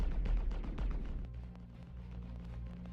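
Rapid laser repeater fire in the space game Star Citizen, a quick burst of punchy energy shots with heavy low-end thumps that fades into a sustained rumbling hum.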